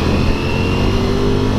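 A car engine pulls in third gear at around 50 km/h, a steady, close mid-pitched drone with constant road and cabin noise and no clear rise in pitch.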